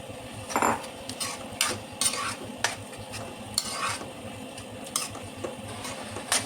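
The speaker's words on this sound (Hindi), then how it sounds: "तो अब इसे चलाते जाना है और इसे हम अच्छे से पका लेंगे" A spoon stirs turmeric curry with yogurt in a pan, making repeated scraping and clinking strokes over a low sizzle, close and steady with no talking.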